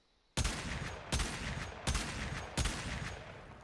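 Aklex Prime pistols fired in Warframe: four loud, sharp gunshot bursts spaced under a second apart, each with a ringing tail that fades into the next, and no talking.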